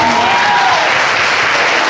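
A church congregation at a women's conference applauds loudly and close, a thick burst of clapping with a faint voice briefly audible at the start.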